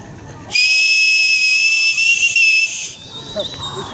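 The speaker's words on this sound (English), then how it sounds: "Oh, frig, I'm losing my whistle." A shrill whistle is blown at a street protest in London, Ontario, one long loud piercing blast of about two and a half seconds, close up over crowd noise.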